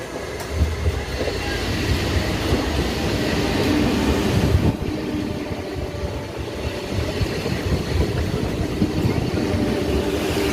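Paharia Express arriving at its final stop, Digha, running about an hour late: a steady low rumble of rolling train wagons with faint rail clatter throughout, slightly easing midway.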